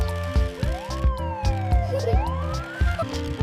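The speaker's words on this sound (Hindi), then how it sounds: "ये सायरन के साथ आती है।" Electronic siren of a toy police car wailing up and down in pitch over a rapid, repeating beeping pattern, close and fairly loud.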